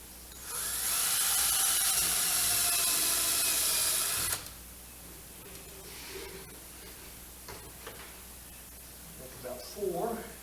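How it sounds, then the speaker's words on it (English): A power drill countersinks a hole while replacing a screen window in a lodge pavilion, a loud high whine for about four seconds that then stops, followed by quieter handling and a voice. "countersink a hole."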